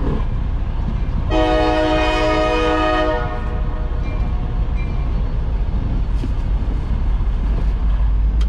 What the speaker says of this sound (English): Little ass train.